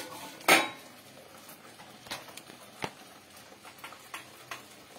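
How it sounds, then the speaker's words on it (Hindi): Spices roast in oil in a pan for a simple home recipe, heard as a sharp metallic clank followed by a series of lighter, scattered taps and scrapes of a spoon against the pan. "तो बस इन मसालों को हम जब तक भूनेंगे, जब तक इनमें तेल ना इसका ऑयल जो है वो सेपरेट हो जाए"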